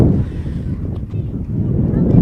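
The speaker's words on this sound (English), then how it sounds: "those wind gusts are not pleasant" Low, rumbling wind buffets the microphone in heavy gusts at an outdoor softball game, a loud muffled roar that swells and dips throughout.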